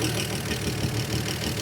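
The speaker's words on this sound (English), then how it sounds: "she fired right up" A 1952 GMC truck engine idles just after its first start in 50 years, a steady low rumble with a rough, uneven pulse, close and alone.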